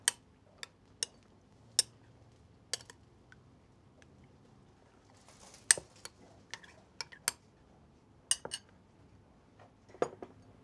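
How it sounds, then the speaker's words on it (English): Eggplant is mixed with salt and oregano, heard as sparse sharp clicks and clinks of a utensil against a bowl, scattered at irregular intervals over a quiet background. "I'm going to mix it and rest it there so they will get the taste of the oregano and the salt"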